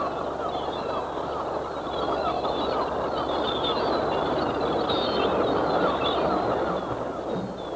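A dense crowd of birds on a Gulf island calls continuously, a loud, honking, overlapping clamor of many voices that fills the air without pause.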